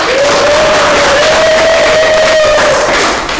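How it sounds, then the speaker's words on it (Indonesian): A classroom of students breaks into loud, dense applause and cheering, a continuous burst at close range with a voice rising above it. "Mantap, tepuk tangan dulu"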